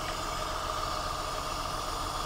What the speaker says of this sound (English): we can still access them with the engine running.